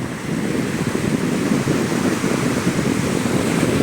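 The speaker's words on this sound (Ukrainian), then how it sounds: "показуємо для вас шум нічного моря." Night sea waves roll onto a beach on Sunny Beach in August, a steady, loud roar of surf with wind buffeting the microphone throughout.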